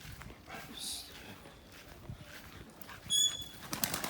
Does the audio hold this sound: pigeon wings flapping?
yes